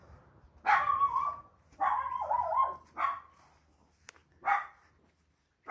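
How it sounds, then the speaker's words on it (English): A small guard dog next door to a residential house barks four times, yapping in short irregular bursts at moderate distance, with quiet pauses between the barks. "Little guard dog next door."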